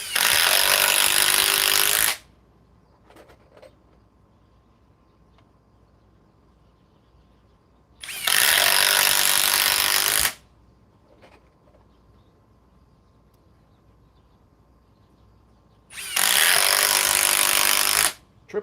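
A Metabo, formerly Hitachi, triple hammer impact driver runs in three loud, harsh bursts of about two seconds each, separated by long quiet gaps with faint handling clicks.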